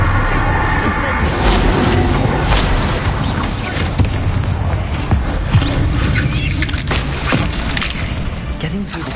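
A fire spell cast in a wizard video game bursts out as a dense, loud whoosh and rumble of game effects, with muffled booms through a busy, sustained mix.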